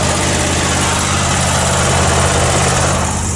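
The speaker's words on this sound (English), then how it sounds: "big John Deere zero turn, and I'm just kind of trimming up some stuff" A big John Deere zero-turn mower runs steadily at close range, its engine a loud, constant drone with a deep low rumble, heard alone with no talking.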